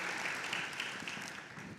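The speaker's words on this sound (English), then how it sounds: "can we give her a round of applause" Brief, faint applause from a conference audience, a soft continuous patter of clapping heard at a distance.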